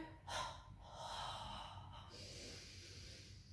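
During a Pilates hundred exercise, a person exhales in a few soft, forceful puffs and gasps, close and quiet, with a faint hiss of room noise behind.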